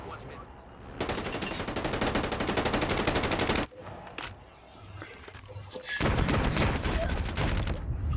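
Rapid automatic gunfire bursts from Call of Duty Mobile, loud and continuous for several seconds, broken by a short lull with scattered shots, then another dense burst; faint voices chatter underneath.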